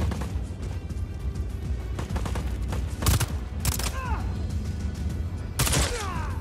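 Burst-fire weapon shots in Just Cause 4 crack out in short clustered volleys over a busy background of game noise, with a few sharp loud bursts and whistling debris between them.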